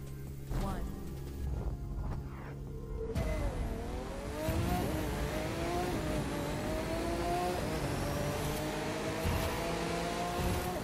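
Porsche 911 Carrera 4S engine in The Crew 2 racing game, revving hard and climbing through gears with a rising whine and shifts, loud and close, tires faintly squealing.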